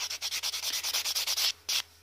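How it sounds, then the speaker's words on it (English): Rapid rhythmic rasping of a buffing block worked back and forth over fingernails, a steady run of short scrubbing strokes close up, pausing briefly near the end before one last pass. "let me get a wee buffing block."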